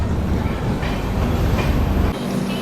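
Humsafar express train pulling out of Elamanchili station, a loud continuous rumble with rhythmic wheel clatter on the rails, dropping slightly in low end near the end.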